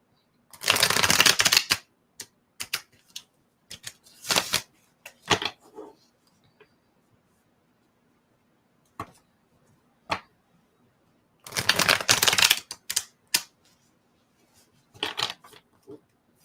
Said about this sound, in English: Pardon the shuffling, everybody.